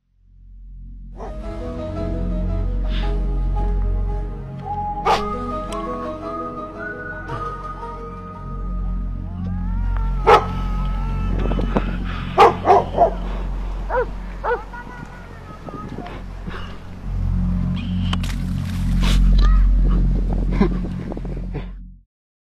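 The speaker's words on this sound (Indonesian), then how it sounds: "itu ada suara anjing yang menggonggong gitu" Several dogs bark in short, irregular bursts from a phone-played clip, mixed with whistle-like tones, a low steady hum and some voices, moderately loud throughout.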